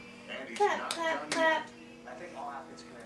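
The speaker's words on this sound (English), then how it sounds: "Clap, clap, clap." A young girl claps her hands in a short burst of soft claps, close by, while an adult voice chants and encourages her over the top.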